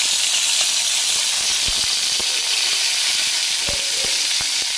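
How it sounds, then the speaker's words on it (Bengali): Loach fish fry in hot oil in a wok, a loud, dense, steady sizzle and hiss with occasional sharp pops and spatters, close up. "দেখতেই পাচ্ছ কড়াইতে মাছগুলোকে ভাজছি"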